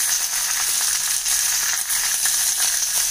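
Steady, loud sizzling of onion and green chilies sautéing in hot oil, a constant crackling hiss with no talking.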